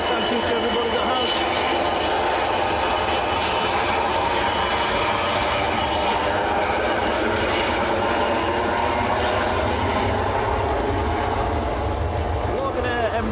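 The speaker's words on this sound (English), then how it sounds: "Logan Embraer E145, that's off down to Exeter, down on the south coast." Loganair Embraer E145 jet departing Manchester Airport, a loud continuous engine roar with broad rumble, steady throughout, with talk over it.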